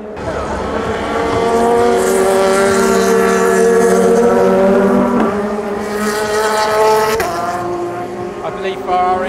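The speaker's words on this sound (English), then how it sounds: "So we're 7 hours in at Le Mans and now we're night racing." Loud racing engines roar and whine past in succession at the Le Mans 24-hour race at night, pitches shifting as cars pass close by, with a voice talking over the noise.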